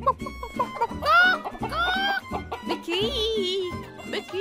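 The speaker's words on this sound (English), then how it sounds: "And what noise do chickens make, Peppa?" Cartoon-style clucking and squawking from a Peppa Pig cartoon chicken, a series of short bursts and warbling calls, close and lively, voiced rather than a real bird.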